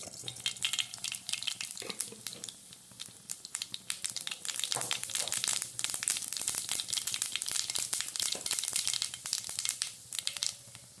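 Mustard seeds splutter and pop in hot coconut oil for a cauliflower masala thoran, with a dense stream of sharp crackles and sizzling bursts close by, continuing throughout without talk.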